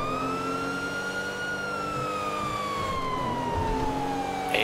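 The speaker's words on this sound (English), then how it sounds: "I'm engaging with lights and sirens." Police car siren wailing continuously in a roleplay video game, a steady rising and falling tone with a vehicle engine underneath, loud and close with no talking.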